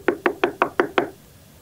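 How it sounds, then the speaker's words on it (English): Six quick, evenly spaced knocks on a door, sharp and close, followed by silence. "Next, there was a knock at the door."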